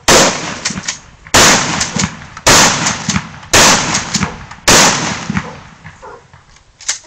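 Several loud, sharp gunshots fired at a flat-screen TV, about five blasts spaced roughly a second apart, each with a sudden broadband crack and brief decay, close by.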